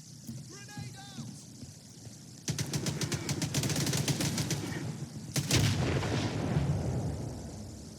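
A grenade blast in the S.T.A.L.K.E.R. 2 video game sets off a loud, sustained burst of rapid gunfire and explosions after a quieter start, with a second heavy boom partway through and firing continuing to the end.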